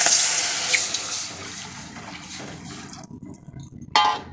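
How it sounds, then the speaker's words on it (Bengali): Water pours steadily into a cooking pan for dahi vada soaking water, trailing off after about three seconds, followed by a brief metallic clink. "দিয়ে দিচ্ছি জল।"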